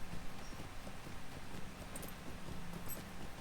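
Horse hooves clip-clopping in the Lord of the Rings Online video game, a steady, fast, quiet trotting rhythm on a road that runs throughout with no talk.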